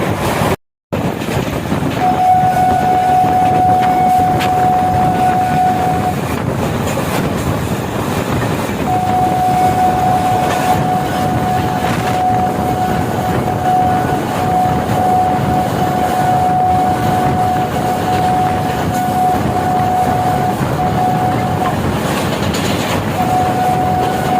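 India's first superfast MEMU electric multiple unit train runs loudly and continuously on rails, a dense steady rumble with faint clickety-clack and a long sustained tonal whine from the traction motors throughout, no voices.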